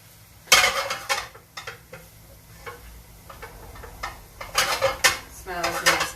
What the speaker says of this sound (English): I'm adding a clove of garlic. I'll just mix that in.